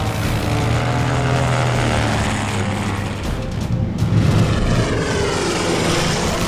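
A World War I DR-1 triplane's rotary engine drones loudly and steadily in flight, a continuous propeller roar with a slight swell near the end and no talk.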